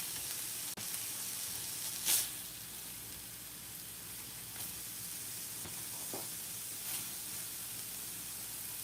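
Chicken breast strips sizzle on a hot griddle grill in a steady, quiet hiss, broken by a few faint clicks and spatters, with no voices.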